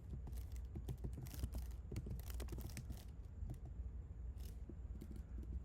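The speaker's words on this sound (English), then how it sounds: "I'm just going to type in spiritual architect." Quiet, steady typing on a computer keyboard, with fast irregular clicks of keys and occasional louder taps over a faint background hum.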